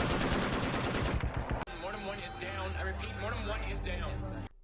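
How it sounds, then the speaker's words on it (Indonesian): Rapid bursts of gunfire hitting a helicopter crackle loudly at first, then give way to a low rumbling drone with faint voices underneath. "helikopter Casey mendapat tembakan beruntun, sehingga heli tersebut pun jatuh"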